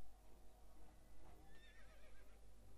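A shrill golden horse neigh in the game Star Stable Online rises and wavers over a constant wash of background noise, fairly faint and brief.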